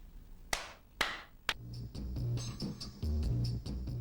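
Three sharp, single hand claps ring out evenly about half a second apart, done to banish negative energy, then soft music with low tones comes in.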